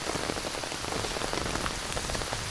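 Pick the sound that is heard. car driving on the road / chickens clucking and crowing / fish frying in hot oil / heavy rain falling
heavy rain falling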